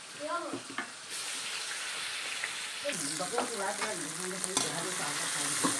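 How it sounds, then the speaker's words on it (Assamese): Shrimp sizzle and crackle in hot oil in a home kitchen, a continuous loud frying hiss, with stirring scrapes and a voice speaking over the cooking. "তেল দিছোঁ এতিয়া মিছা মাছটো ভাজি ল'ম"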